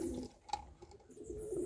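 Capuchine pigeons coo in a short, low, throaty burst at the start and again toward the end, close by, with a faint sharp chirp in between and quiet room noise throughout.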